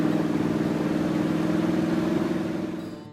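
A food truck's engine runs at a steady idle, a close, loud, rhythmic mid-pitched rumble that slowly fades out at the end, with no talking.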